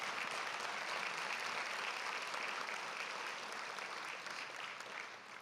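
Sustained applause from an audience at an awards brunch, a steady dense wash of clapping that holds evenly throughout and tapers slightly near the end.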